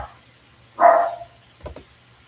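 A pet dog gives a single short, mid-distance bark, followed by a couple of fainter soft sounds, over a low steady background hum.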